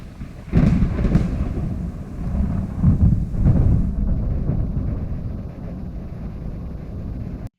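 Thunder extended with Premiere Pro's Generative Extend tool rolls as a loud, deep rumble with a couple of sharper cracks early, then settles into a sustained low roar that carries on steadily to the end.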